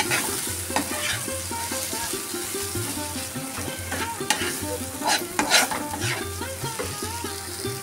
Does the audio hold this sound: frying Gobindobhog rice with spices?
yes